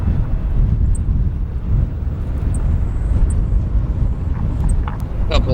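A China Eastern airliner taxiing to its gate at O'Hare International Airport, heard as a loud, steady low engine rumble mixed with wind buffeting on the microphone.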